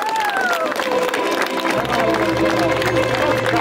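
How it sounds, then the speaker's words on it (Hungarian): Guests at a Hungarian Tirpák-style wedding burst into sustained applause and cheering as the bride arrives, continuous clapping filling the room with a voice speaking over it. "Nagy tapsot, érkezik a mennyasszonyunk!"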